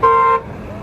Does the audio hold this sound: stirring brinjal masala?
no